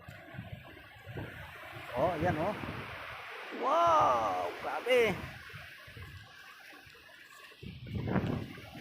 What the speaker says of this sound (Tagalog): Napakaingay ng hampas ng alon dito.